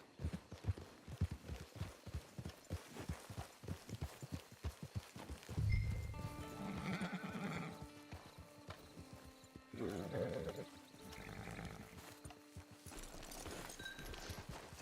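Horse in the Red Dead Redemption 2 video game, clip-clopping hooves in a steady close rhythm that slows, followed by snorts and a faint neigh amid game effects.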